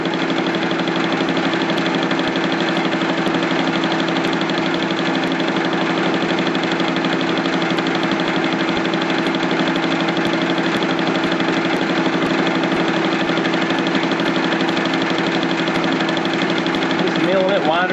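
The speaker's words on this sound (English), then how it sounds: "Milling it wider and wider each pass, but it's going to take a while to get it completely flat." A milling machine cuts a 1 inch spacer for a transmission mount, widening the flat with each pass; a loud, continuous buzzing chatter with steady rhythmic vibration runs unbroken for the whole stretch.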